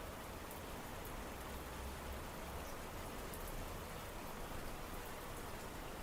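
Steady rain falls as a sound effect, a dense, even hiss of drops on a surface that stays constant and fairly close throughout, with no voices.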